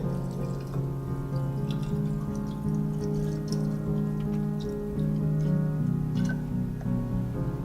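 Apple degreaser liquid is poured from above back into its bottle, a steady trickling, splashing flow that continues throughout.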